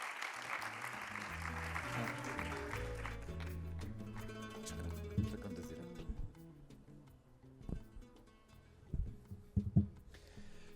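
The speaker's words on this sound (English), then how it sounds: "This is your applause. Much appreciated." Audience applause at a financial academy forum, a soft wash of clapping that fades into scattered claps and brief bumps near the end.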